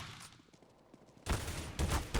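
Shotgun blasts in Counter-Strike: Global Offensive, a quiet lull followed by three loud, close booming shots in quick succession, each with a sharp crack and short rumbling tail.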